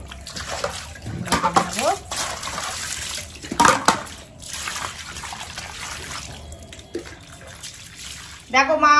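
Water splashing and trickling as freshly cut fish are rinsed in a kitchen, broken bursts of washing with a louder pour near the end, a voice speaking briefly over it.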